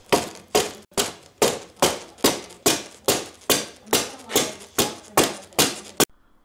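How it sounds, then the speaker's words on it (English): A hammer tapping lightly into place on foam, about a dozen evenly spaced, fairly loud knocks in a steady rhythm, heard on their own with no talking, ending abruptly. "I'm going to take a hammer and start hammering it into place"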